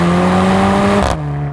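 Mercedes-AMG GLC 43 engine held at a loud, steady high rev close by, then the pitch and volume drop sharply as the throttle is released near the end.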